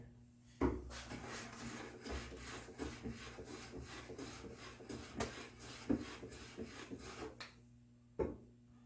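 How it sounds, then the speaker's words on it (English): Wood edges are chamfered by hand, giving a quiet series of rhythmic rasping strokes, close by, with a couple of sharper knocks at the start and end and no talk. "give them a quick light chamfering"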